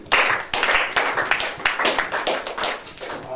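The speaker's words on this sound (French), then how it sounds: "On acclame Jésus." A church congregation claps for Jesus with sharp, close hand claps in a fairly steady rhythm, loud and unaccompanied by talk.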